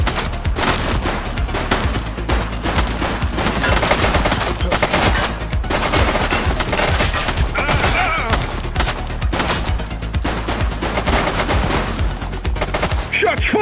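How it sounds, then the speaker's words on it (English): Sustained, rapid gunfire crackles through a police shootout in The Precinct, loud automatic bursts and overlapping shots running continuously for many seconds with little pause. "Shots fired!"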